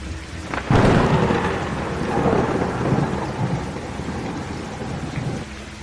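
A thunderstorm sound effect: a loud crack of thunder opens, then rolls and rumbles over steady, heavy rain falling on surfaces, with no voices.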